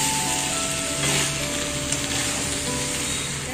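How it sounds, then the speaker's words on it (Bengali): Potatoes and soybeans fry with spices for a spicy vegetarian soybean curry, giving a steady, loud, close sizzle that runs unbroken with no voices. "মশলার সাথে আলু আর সয়াবিনটা ভালো করে কষিয়ে নিতে হবে।"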